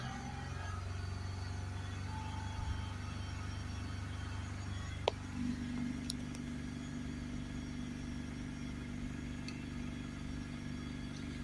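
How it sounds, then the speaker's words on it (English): A diesel Mercedes E350 with a particulate filter fault runs as its engine is raised to about 3000 RPM, a faint, steady drone with a slight shift partway through. "raise the car up to 3000 RPM"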